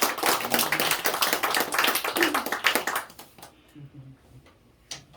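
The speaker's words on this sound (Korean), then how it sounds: "자, 오늘 박수 한번 하겠습니다." Church congregation clapping together in a quick, rhythmic burst of hand claps for about three seconds, then tapering into scattered claps and quiet murmuring voices.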